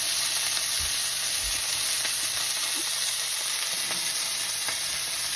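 Wild burgers sizzle loudly in a pan on a stove burner, a constant close frying hiss with occasional pops and spatters.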